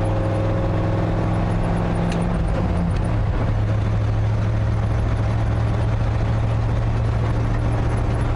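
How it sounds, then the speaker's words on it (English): Loaded ramp truck with a 460 engine and ZF5 transmission, driving under load: a loud, continuous engine drone with a steady low hum that shifts pitch slightly partway through, alongside road and cab noise. "This engine sounds like it's turning a lot more RPM than it really is all the time."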